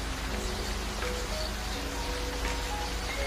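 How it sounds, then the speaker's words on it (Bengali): Steady rain falls in a Bangla cartoon, a constant, even hiss of drops heard alone at moderate volume. "বৃষ্টি চলে এসেছে বন্ধু"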